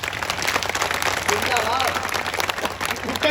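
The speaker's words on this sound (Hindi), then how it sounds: "सारे लोग एक बार जोरदार तालियां इसरो के लिए बजाइए" Loud, continuous applause from an audience for ISRO at a poetry gathering, with dense clapping throughout and voices mixed into the noise.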